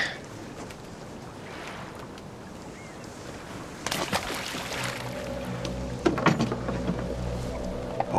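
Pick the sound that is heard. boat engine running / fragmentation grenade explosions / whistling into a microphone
boat engine running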